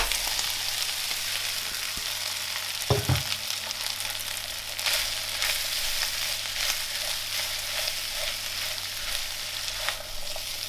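Rice and egg fry in a pan, giving a steady, moderate sizzle with a thud and scraping stirs as the rice goes in, with no talking.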